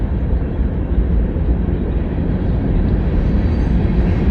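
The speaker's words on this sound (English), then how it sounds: "Oh, that train is finally gone." A train passes nearby, making a loud, continuous low rumble that holds steady throughout, with no talk over it.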